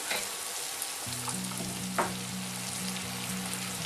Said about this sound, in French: on met les oignons